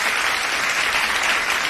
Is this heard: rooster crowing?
no